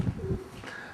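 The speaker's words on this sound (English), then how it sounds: "Pigeons in residence." Pigeons cooing close by at an old building with a moat in Broadstairs, a few soft, low, throaty coos in quick succession before quieter background.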